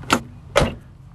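An old late-1960s or early-1970s car door is shut twice in a junkyard, giving two close, solid thunks about half a second apart over a quiet background.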